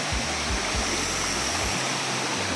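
A large river flowing down from the mountains near Kampung Lenganeng on Sangihe island, a steady, loud, close rush of water with low churning surges and no voices.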